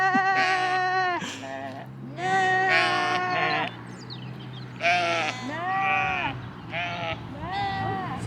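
Sheep bleat close by along a rural stretch of the Camino de Santiago in Portugal, a run of drawn-out wavering calls, several overlapping, alone and fairly loud over a low steady background hum.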